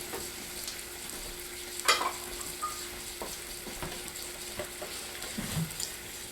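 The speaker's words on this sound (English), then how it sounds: "I have a tablespoonful of minced garlic. I'm going to turn my heat up on this fairly high." Tablespoon of minced garlic frying in a pan over fairly high heat, a steady close sizzle with a few sharp crackles and stirring scrapes, no voices.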